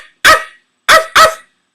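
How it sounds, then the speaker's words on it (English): Three sharp, loud dog barks ring out close by, a single bark and then a quick pair, each one short with a clean silence around it. "Give you a fucking real barking dog"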